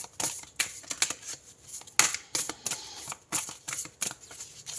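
Tarot cards are shuffled and drawn in quick, crisp riffling bursts with short pauses between them, close and fairly clear.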